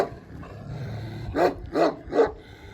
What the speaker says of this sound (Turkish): Bu arada arkadaşlar burada hakikaten birbirinden güzel iki tane sarı kangal var.